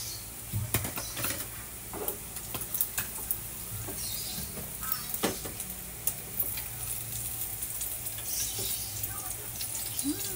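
Garlic frying in hot oil gives a steady close sizzle with occasional stirring clicks and scrapes over the whole span, and a low hum runs underneath.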